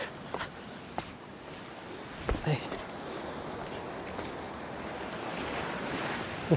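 A mountain stream rushes over water-worn rocks along a hike to the Figure 8 Pools, a steady close wash of flowing water with a few gusts of wind and faint voices in the background.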